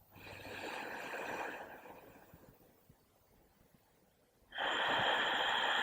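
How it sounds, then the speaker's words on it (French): Slow, deep breaths sound close up during a guided breathing exercise: a long airy inhale, a softer fading exhale, then another strong inhale begins. "Inspirez. Expirez."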